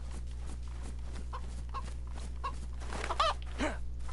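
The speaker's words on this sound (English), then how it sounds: "Where's this chicken? Like, why can I hear it so well, but I'm never getting closer to it?" A chicken clucks in the DayZ video game, a few short clucks at moderate distance over a steady low game hum, with no one talking.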